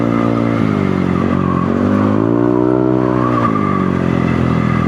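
A Yamaha Aerox V2 scooter fitted with a new JM Muffler exhaust pipe gives a loud, steady engine drone. The pitch dips and rises as the throttle is blipped, close by and with no talking.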